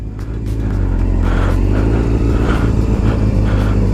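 A sport motorcycle engine rumbles close by and revs in repeated rising pulses over a steady low idle, loud and continuous with no talk.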